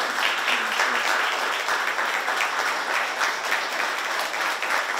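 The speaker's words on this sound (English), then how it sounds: "y'all give them a big round of applause now" A crowd at a governor's proclamation event for Hunger Free West Virginia Day gives a hearty round of applause, close and steady clapping with individual hand claps audible throughout.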